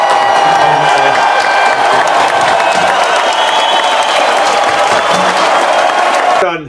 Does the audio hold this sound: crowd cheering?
yes